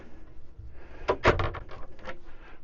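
Wardrobe door aboard a 2011 Hardy Commodore 42 motor yacht being opened, a short wooden clunk and rub at close range over quiet cabin background.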